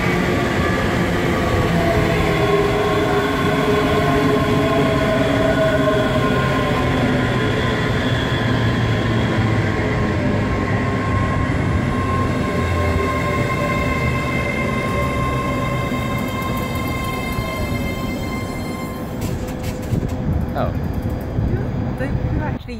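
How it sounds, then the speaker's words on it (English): A train rolls past at Linlithgow station, its wheels clacking steadily over the rail joints in a continuous loud rumble with rising metallic squeals, before high clattering taps and brake noise toward the end. "clack along the track."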